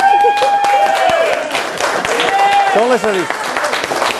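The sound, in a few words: audience clapping at magic lecture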